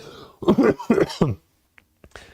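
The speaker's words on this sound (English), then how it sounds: "I'm going to cough now because my throat's killing me." A few rough, harsh coughs in quick succession, close up, followed by quiet small clicks and a short breath.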